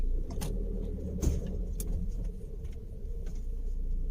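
A 2020 Ford Transit Custom 170HP van idles with a low, steady engine rumble while it is being parked, with a brief knock or jangle partway through.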